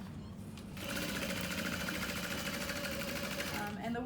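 A sewing machine set to a long stitch length runs steadily through leather, a continuous rapid mechanical whir close by that starts after a brief pause and holds evenly before slowing at the end.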